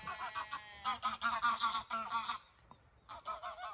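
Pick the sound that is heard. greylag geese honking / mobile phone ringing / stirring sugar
greylag geese honking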